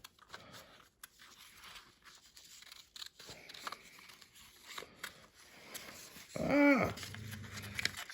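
A few quick snips of small scissors cutting paper up close, soft and brief, with faint rustling around them.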